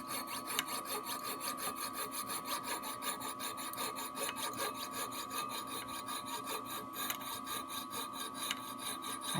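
Thin metal flatware being hand-sawn for craft and jewelry work: a rapid, steady rasping stroke repeating many times a second, close and continuous, with no talk.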